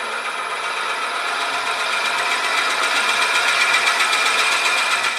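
A wood lathe runs steadily at a slowed speed of about 600 rpm while a one-inch hole is made, a continuous buzzing whir that holds level and close for the whole clip.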